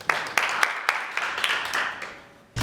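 An audience applauds at a panel talk about Hollywood, with a steady wash of many hands clapping and sharper individual claps standing out, fading toward the end before a brief louder burst.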